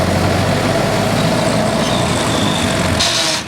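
Loud, steady rumbling drone of a 1924 Dodge 116 Tourer engine running close up while gears are shifted, with a brief higher whine near the end.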